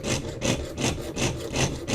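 A jeweller's saw cuts out a leaf shape for a necklace in steady back-and-forth strokes, about six rhythmic rasping passes, close and clear with no voices.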